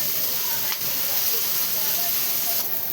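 Bitter gourd (karela) frying with onion in a pan, an even, continuous hissing sizzle close by, with two faint brief scrapes along the way.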